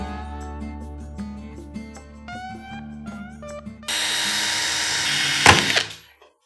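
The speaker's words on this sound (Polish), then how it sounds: "No i poszło wiertło" A power drill whirs loudly and steadily up close for a couple of seconds, with a sharp clunk near the end before spinning down, after a stretch of background music.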